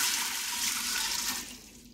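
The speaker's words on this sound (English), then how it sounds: "And then I'm going to go with 3 cups of water." Three cups of water pour into an Instant Pot over dried chickpeas, a loud close rushing splash that tapers off in the last half second.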